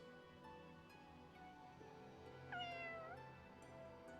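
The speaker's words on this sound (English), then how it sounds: "Kitty." In the video game Fire Emblem Engage, a cat gives one clear, rising meow, set over soft, steady background game music.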